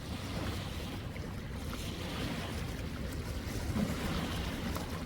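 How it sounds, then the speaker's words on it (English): Waves on Kootenay Lake crash against lakeside rocks in a steady, broad wash of surf, heard up close with wind rumble on the microphone and no talking. "Let's get those crossing waves into those rocks there."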